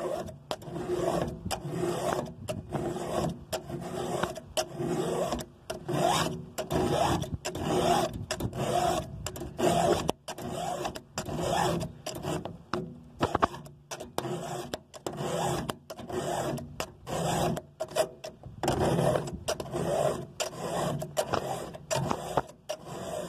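A file rasps against the chain of a Poulan Bad Boy chainsaw in a steady series of quick, close back-and-forth strokes, repeating rhythmically for over twenty seconds with short pauses between sets.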